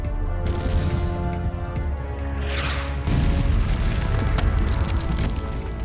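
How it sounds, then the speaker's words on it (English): Dense, continuous rumbling barrage with heavy low booms and crashing impacts, loud and sustained, like cannon fire pounding at close range, as guns shell a fortress in a reconstruction of the 1522 siege of Rhodes. "The gunners ramp up their shelling of the already weakened parts of the fortress."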